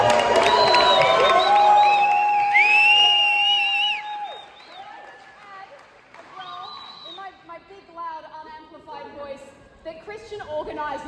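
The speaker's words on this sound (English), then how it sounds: "so round of applause for Kaylene." Wedding guests at the speeches cheer and whoop loudly for Kaylene for about four seconds, a lively crowd roar that fades into lighter murmuring and scattered voices.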